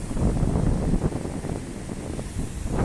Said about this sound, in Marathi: हे बघ काय समुद्र